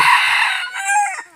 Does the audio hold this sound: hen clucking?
yes